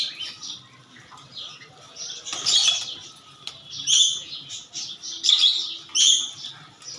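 Homa, Giribaz and racer pigeons gathering for food, with bursts of wing flapping and scattered high chirping calls rising and falling nearby; no talking.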